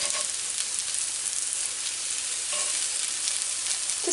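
Steady, close sizzling of apple pancakes frying in a hot cast iron pan, a continuous crackling hiss with no talking.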